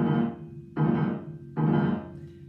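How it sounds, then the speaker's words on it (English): Three heavy, low piano clusters are struck at even intervals, each ringing briefly before the next, making a lumbering, comic piece of music played close and alone. "If you hear the crazy turtle music that sounds like this,"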